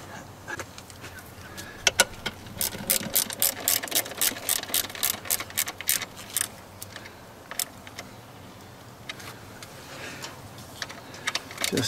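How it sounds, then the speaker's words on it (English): A ratchet wrench with a 10 mm socket clicks in rapid bursts while tightening a bolt on the cylinder head of a Toyota Prado 90 series 1KZ-TE diesel engine. The bursts are close, loud and repeated, with short pauses between strokes. "Let's ratchet up with a 10."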